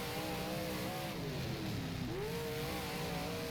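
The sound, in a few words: big block modified race car engine accelerating in video game rFactor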